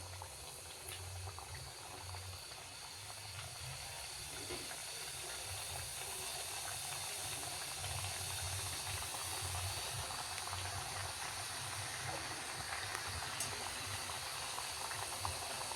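Steady, dense bubbling sizzle of spinach puri deep frying in hot oil, continuous and fairly close, with a low hum underneath.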